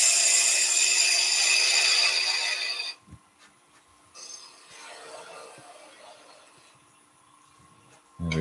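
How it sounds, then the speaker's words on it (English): A power tool drives screws into the base of a wooden Christmas centrepiece, a loud steady whir for about three seconds, then quieter scraping and handling noises before the motor starts again at the end. "Just screwing at the bottom again."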